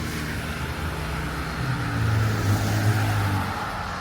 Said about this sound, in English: please excuse the cars